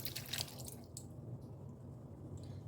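Liquid draining from a can of fruit cocktail, a faint trickle and drip with a few soft splashes early on, quiet and close.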